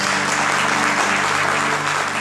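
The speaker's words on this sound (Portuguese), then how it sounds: "diga amém, glórias a Deus, e aplauda Jesus" A church congregation applauds during a worship service, producing a thick, steady wash of clapping at close range. A faint tonal hum sits underneath, and no one speaks.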